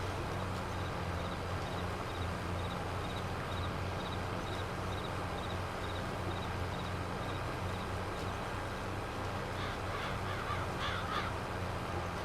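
Crows cawing in the video game Farming Simulator 22, a series of distant harsh calls in quick bursts near the end over a steady low ambient rumble.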